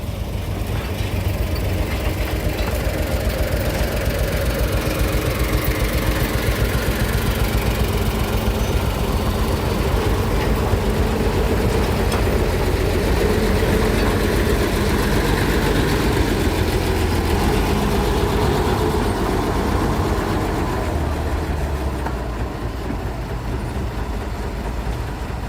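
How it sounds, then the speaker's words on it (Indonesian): A small locomotive, number 6, idles while stopped on a steep mountain railway track, giving a steady, continuous low engine rumble that stays even and close throughout with no voices. "Karena lokomotif kecil skoma nomor 6 akan berpindah jalur ke jalur kanan"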